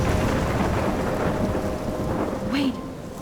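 Thunderstorm with steady heavy rain in Life Is Strange, a continuous loud rumble and downpour wash with a brief sharper crack of thunder near the end.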